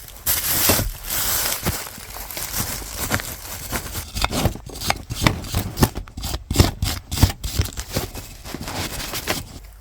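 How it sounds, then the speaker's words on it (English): A wire brush scrubs the caliper bracket area of a Chevy Sonic's brakes, giving close, raspy strokes in an irregular back-and-forth rhythm that quicken into sharp bursts toward the end. "Take a wire brush and we'll just clean up all this area here where the bracket was."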